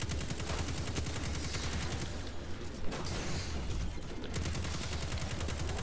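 Dense, steady gunfire from the video game Destiny 2 chatters continuously in a rapid rhythm for the whole stretch, fairly quiet and unbroken.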